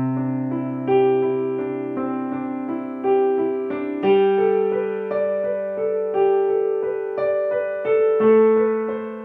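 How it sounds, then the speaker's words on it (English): Piano repeats a right-hand suspended chord pattern in a calm, even rhythm, moving through a few chord shapes, played alone with no speech. "So it's going to have this beautiful sus sound,"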